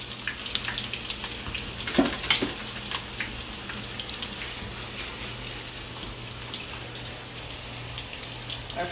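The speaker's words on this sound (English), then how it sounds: "Our chips are crisping up" Sweet potato chips frying in hot oil, a steady bright sizzle with scattered crackles and pops, close and fairly quiet, no voices.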